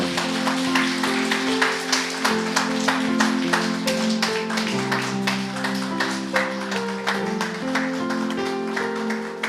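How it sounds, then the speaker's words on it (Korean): A church congregation claps after an infant baptism, the sharp claps falling in a steady rhythm over sustained musical chords that play throughout. "박수 주시기 바랍니다."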